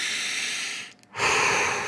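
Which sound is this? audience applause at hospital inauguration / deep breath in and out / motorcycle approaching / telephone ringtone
deep breath in and out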